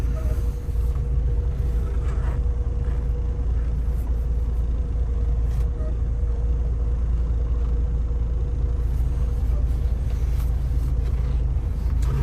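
A 2019 Freightliner Cascadia 126 truck pulls forward with a loud, steady low engine rumble and some creaking mechanical noises throughout.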